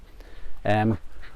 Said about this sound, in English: You'll have to excuse my dog's barking.